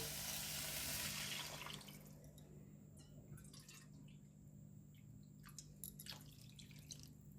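Water pours steadily into a pan of quinoa for a couple of seconds, then stops, leaving scattered drips and small splashes.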